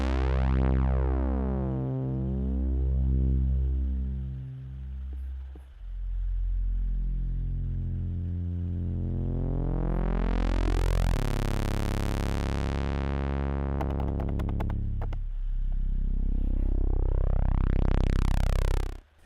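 A Behringer Odyssey synthesizer holds a buzzy tone while its 2-pole filter cutoff is slowly lowered, the sound darkening gradually, with sweeping pitch glides and a few bright clicks along the way. No voice is heard.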